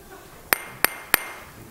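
A hammer taps a glass jar three times in an even rhythm, each strike a sharp, bright ping that rings briefly before the next, close and clear over a quiet room.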